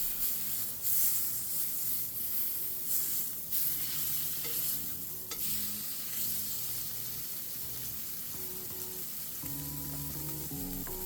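Steak searing in a pan with garlic butter, a steady loud sizzle with scraping and spooning sounds as the butter is basted over the meat, no talking.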